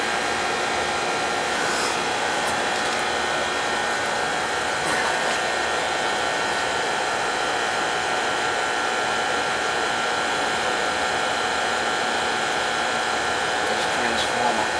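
A gas furnace motor that sat under four feet of floodwater runs with a constant, even whooshing hum, loud and unbroken for the whole stretch, with a voice faintly present at times.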